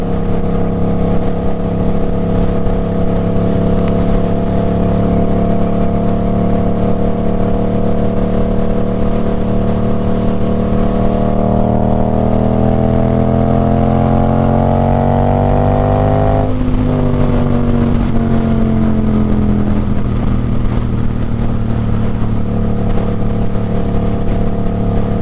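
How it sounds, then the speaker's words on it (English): A 2024 Suzuki GSX-8R motorcycle with a Toce exhaust idles and revs steadily up and down, a loud, close engine drone with pitch rising and dropping mid-clip and faint crackles underneath. "Sometimes when you're downshifting, because I got a quick shifter on this bike, you'll hear these little pops and stuff like that."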